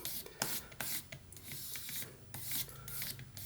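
A whittling knife blade is rubbed along sandpaper in quick, uneven rasping strokes, close and faint, with short scratchy bursts and small gaps between passes.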